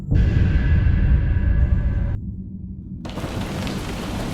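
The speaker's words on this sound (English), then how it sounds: "Late one stormy night, as relentless rain and howling wind assaulted the world outside" Heavy rain roars with a deep, rumbling low end like distant thunder, the sound cutting abruptly and resuming as a softer, steady downpour.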